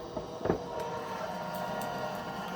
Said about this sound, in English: I'm just going to send this through my AccuQuilt Go.